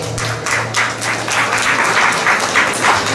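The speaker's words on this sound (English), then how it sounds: "They also deserve a round of applause." A crowd at an outdoor community charity walk applauds in a loud, continuous wash of clapping with a low steady hum beneath it.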